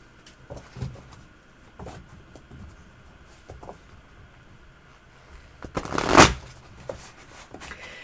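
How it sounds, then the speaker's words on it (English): A deck of tarot cards being shuffled by hand, a soft papery riffle building to a loud, dense burst near the end, with scattered light taps and rustles before it and no talk. "Shuffle, Mr. O, and then I'll shuffle"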